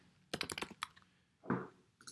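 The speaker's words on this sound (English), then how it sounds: "you can start typing late fee" Quick bursts of computer keyboard typing, a fast cluster of keystrokes followed by a pause and a heavier key press, close and clear with no voices.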